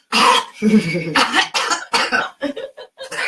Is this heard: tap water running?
no